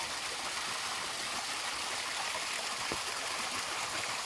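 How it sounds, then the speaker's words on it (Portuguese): Rainwater running beneath a wet dirt country road at night during light rain, a steady close rushing trickle with no pauses, filling the whole span without talk. "Uma chuvinha caindo e a aguinha descendo"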